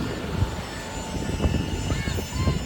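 A steady aircraft engine drone fills the air while passengers board a plane, with a constant tonal whine and broadband roar, and voices speak nearby.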